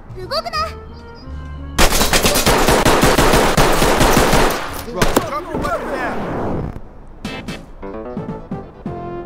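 Automatic weapons fire in the tactical shooter Ready or Not: rapid, loud bursts with sharp single shots between them. Brief voice fragments break through the din.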